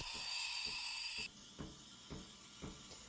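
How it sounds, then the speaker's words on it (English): A loud, bright hiss of steam from a Breville Barista Express steam wand frothing milk runs for over a second, then stops abruptly, leaving quiet background with a few soft knocks. "You will want to hear a gentle hissing noise when adding bubbles to your milk."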